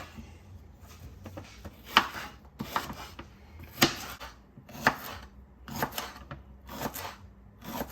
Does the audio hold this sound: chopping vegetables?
yes